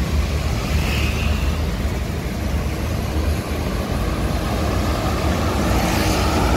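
Buses drive past on a busy road in Padang, Indonesia, a loud, steady engine and tyre rumble with continuous traffic noise and no pauses.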